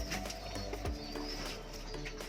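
A racing pigeon coos nearby, soft low repeated calls over a steady background hum.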